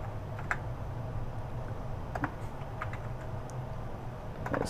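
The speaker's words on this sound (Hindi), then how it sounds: "तो यहाँ पे गूगल पे मैं टाइप करता हूँ लिस्ट" Keys are typed on a computer keyboard to enter a search, giving quick irregular clicks at close range over a low, steady background hum, with no speech.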